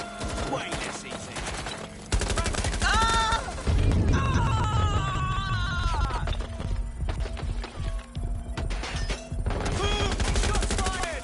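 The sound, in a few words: gunfire in the video game Watch Dogs: Legion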